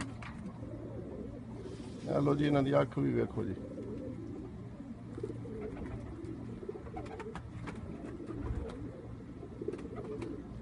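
Domestic pigeons cooing close by in a courtyard, soft rolling coos and a louder burst early on, with someone talking over them.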